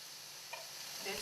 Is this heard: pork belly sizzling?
yes